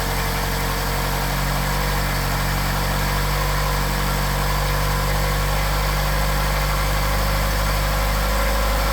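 A car engine with Solex 44PHH carburetors idles loudly and steadily up close while warming up after a cold start, a constant low rumble with mechanical vibration throughout.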